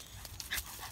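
A dog in a video game pants quickly and rhythmically up close, with a couple of faint whimpering squeaks over low background noise.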